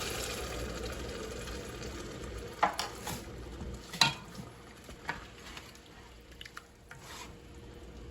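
Coconut milk goes into a cooking pot for a quinoa and red peas dish, giving a soft liquid swish with faint sizzling and a few light clinks of a can or utensil against the pot, quiet and close.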